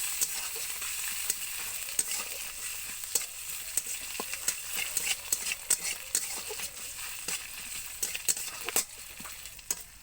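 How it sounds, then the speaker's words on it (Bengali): Ginger paste and onions stir-frying in a pan, with a steady soft sizzle broken by frequent sharp scraping and stirring clicks from a spatula throughout, fairly faint and close, with no talk. "আদা বাটা দিয়ে আদাটাকে কিছুক্ষণ কষে নিতে হবে।"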